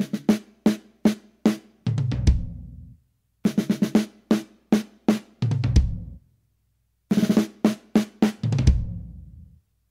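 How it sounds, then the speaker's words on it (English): A drum kit plays a 16th-note triplet fill running around tom 2, tom 1 and tom 3 with the kick drum, heard as three repeated bursts of rapid close hits that end in low, booming tom and kick strokes, with brief gaps between the passes. "I'm gonna do a 16th note triplet with a kick drum"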